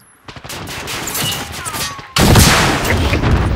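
Rapid gunfire from pistols and other weapons in the Modern Warfare video game: a string of sharp shots, then a dense, loud burst of firing that takes over the second half.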